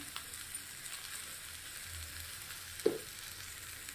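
Tomato pieces fry quietly in a pan as chili powder goes in for a fenugreek leaves and moong dal dish, with a soft, continuous sizzle and one brief knock of a spoon near the middle.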